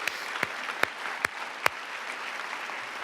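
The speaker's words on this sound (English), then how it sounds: "Let's give our new members a big round of applause." Sparse, scattered hand claps from an audience welcoming new members at a meeting, a few sharp individual claps spaced across a few seconds over quiet room tone rather than a full ovation.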